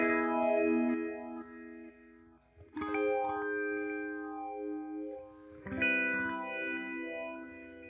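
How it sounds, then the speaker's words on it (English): An electric guitar sounds through a delay followed by a modulation effect such as phaser, flanger or chorus, three sustained chords whose repeats swirl and sweep as they fade, with no talking. "the repeats will now get swirly as well"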